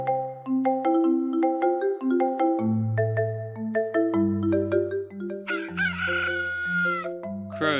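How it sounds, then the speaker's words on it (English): A rooster crows once partway through, its call riding over steady, melodic background music that plays throughout. "Crowed the rooster."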